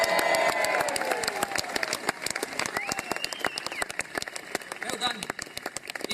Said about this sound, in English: give a right big round of applause, everybody here